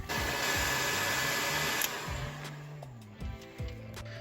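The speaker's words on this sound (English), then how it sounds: "So let's give them a heat gun and then a test." A heat gun blows hot air to shrink tubing over soldered wires, a loud steady fan roar that cuts off partway, leaving a few clicks and knocks.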